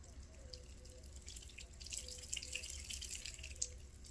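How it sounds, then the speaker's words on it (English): Water from a garden hose drips and trickles onto a bottle outdoors during a DIY car wash, a steady soft patter of droplets with brighter splashes, faint and continuous with no talking. "I can just wet the bottle with the hose."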